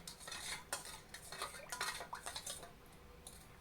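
A spoon clinks and scrapes against a bowl while mixing chaat masala, salt and chili powder into pani puri water, a quick run of light metallic taps and swirls.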